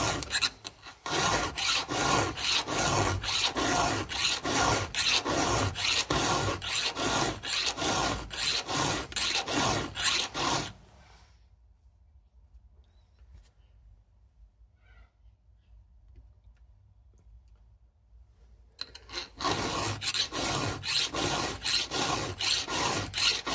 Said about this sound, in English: I need to file until the filing's done. The filing will be done when it's cleared the entire way across this top plate.